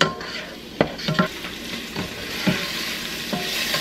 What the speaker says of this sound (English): And just kind of stir fry that all together.